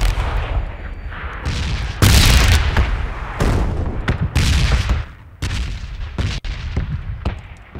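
PUBG battle-royale gunfire on Xbox One: a rapid series of loud, close gunshots and booming reports, irregularly spaced with short gaps, no talk.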